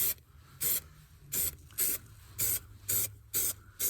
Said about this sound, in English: And then spray this side as well.